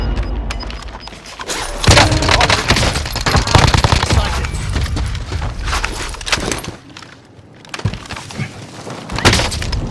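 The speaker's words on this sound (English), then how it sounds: "Bastard's trying to shoot me!" Heavy, continuous gunfire fills a combat video game, dense rattling bursts and booming impacts loud and close, with brief lulls and voices calling out amid the chaos.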